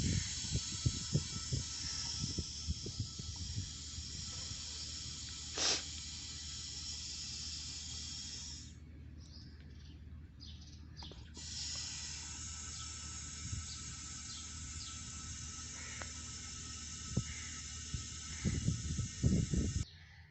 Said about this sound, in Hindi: इसके बाद हम ये ब्लू कलर वाला यानी कि LP gauge, low pressure gauge को हम खोलेंगे और फिर इसमें गैस जाने लग जाएगी।